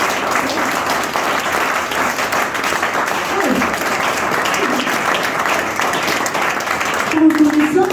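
A church congregation applauds steadily throughout, a dense crowd of clapping mixed with scattered voices and cheers, rising slightly louder near the end.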